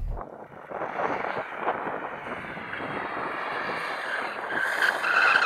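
A BMW M2 drifts with a sustained, loud tyre squeal over a roaring engine, the screech rising and growing harsher toward the end with no talking.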